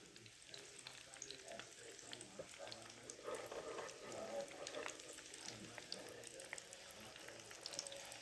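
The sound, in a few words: egg rolls frying in a pan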